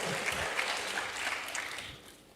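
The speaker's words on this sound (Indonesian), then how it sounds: "Berikan tepuk tangan bagi Tuhan." Church congregation applauding during a sermon, a steady wash of many hands clapping at moderate volume that fades slightly toward the end, with no voices on top.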